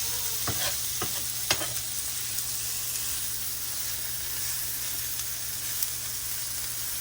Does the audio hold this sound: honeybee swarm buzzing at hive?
no